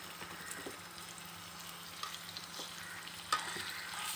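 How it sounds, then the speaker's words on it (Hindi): Chicken pieces shallow frying for malai tikka on a pan or tawa give a soft, steady sizzle, with a few light stirring clicks and one sharper tap near the end, no voices. "अब हम अपने चिकन के पीसेस को शैलो फ्राई कर लेंगे"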